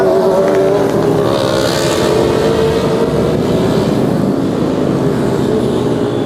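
A loud, continuous engine roar from a racing exhaust, revving and droning steadily throughout with no talking.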